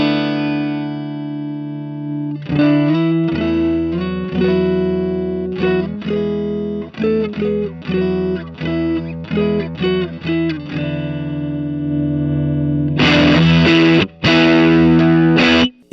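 Electric guitar through a KMA Machines Minos germanium fuzz pedal plays a loud riff of sustained, distorted single notes and chords with short gaps, ending in a thicker, harsher burst of fuzz.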